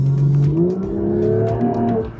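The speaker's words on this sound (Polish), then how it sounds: "Możemy sobie przełączyć również samochód w sport. Trochę głośniej zaczyna chodzić nam." Car engine switched into sport mode, revving with a rising, sweeping tone that swells and eases over a couple of seconds, loud and close from inside the cabin.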